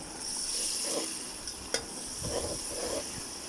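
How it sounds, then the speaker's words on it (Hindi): Garlic ginger paste frying with chicken in a pan, a steady close sizzle with soft stirring scrapes and one sharp utensil tap against the pot, heard alone without talk. "इसमें मैं डालूँगी लहसुन अदरक का पेस्ट सिर्फ 1 चम्मच।"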